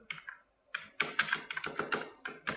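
Typing on a computer keyboard while working in an Excel spreadsheet, with a close, quick run of crisp key clicks in an uneven rhythm after a short pause.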